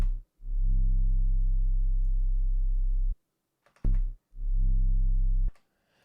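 A synthesized tone with rich harmonic content beyond a plain sine wave sounds in two long, steady sustained notes, loud and clean with a brief gap and a short blip between them, with no talking.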